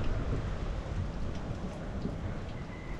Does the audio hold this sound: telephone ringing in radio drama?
no